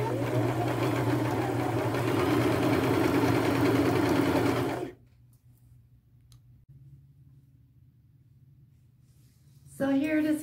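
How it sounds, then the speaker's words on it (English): Sewing machine stitching a flannel shirt, a loud steady mechanical whir for about five seconds before stopping, leaving a quiet low hum, then starting up again briefly near the end. "Now I'm going to take it to the machine and sew it."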